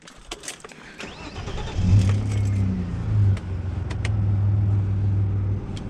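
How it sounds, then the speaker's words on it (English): A Vauxhall Cavalier GLS 2.0 16v, left unmoved since 2007, cranks and fires up close by, then settles into a steady low idle with no talking. "We'll fire the car up and we'll check our lights over"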